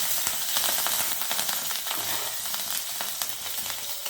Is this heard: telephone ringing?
no